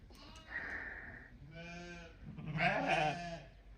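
Two wavering Romanov sheep bleats, one after another at close range, over faint background noise.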